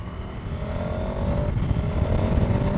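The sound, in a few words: KTM 1290 Super Adventure S motorcycle throttle blips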